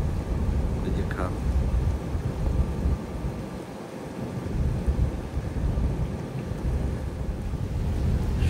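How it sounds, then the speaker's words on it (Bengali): Heavy rain pours steadily with deep thunder rumbling through it, heard aboard a large river launch travelling from Dhaka to Barisal, a dense continuous roar with no voices. "সকাল থেকে প্রচন্ড বৃষ্টি পড়তেছে।"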